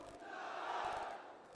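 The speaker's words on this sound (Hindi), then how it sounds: "एक बार जयकारा तो अशोक गहलोत," A political rally crowd roars a single loud chanted cheer for Ashok Gehlot in unison, swelling and fading over a second or two.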